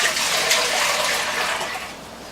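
Water poured for one-to-one sugar syrup, a steady close gush that eases off toward the end.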